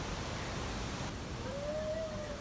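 The Rhine Falls at Schaffhausen, Switzerland, Europe's largest waterfall, pours with a dense, steady roar of rushing water, joined late by a thin, faint whistling tone.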